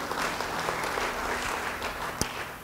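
A church congregation applauds during a sermon, a dense, even patter of many hands clapping that holds steady throughout, with one sharper clap near the end.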